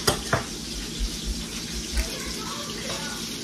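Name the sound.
fish frying in a pan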